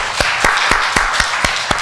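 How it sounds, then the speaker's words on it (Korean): An audience in a church service claps together, loud and close, with sharp, evenly spaced claps and a dense patter of many hands between them over a short stretch. "여러분들 박수 한번 쳐주시면 어떻겠습니까?"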